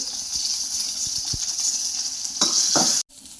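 Curry leaves and onion frying in oil in a pan give a loud, steady close sizzle with a few soft knocks and scrapes, ending in a brief cutoff.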